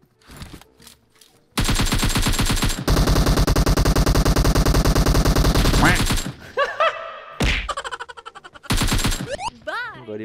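Automatic gunfire from a PUBG battle royale match: long sustained bursts of rapid rifle fire, loud and close, broken by short gaps and scattered single shots, with a few brief voice sounds between the volleys.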